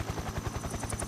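Helicopters in the video game Metal Gear Solid 3 give a fast, steady rotor chop that pulses evenly through a brief moment, fairly loud, with no voices over it.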